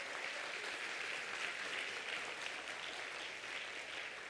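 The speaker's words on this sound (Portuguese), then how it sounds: "Glória, aplauda ao Senhor" A church congregation applauds as a faint, distant, unbroken wash of clapping, steady and even from start to end, with no separate claps standing out and no voices on top.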